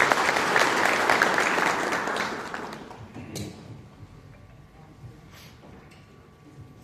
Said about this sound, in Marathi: सर्वांनी टाळ्या वाजवून सरांचं स्वागत करावं.